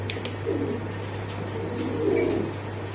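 Pigeons of breeds such as Spanish pouter, Budapest, beauty homer and racer cooing softly at close range, several low throaty coos in a quiet setting with faint background hum.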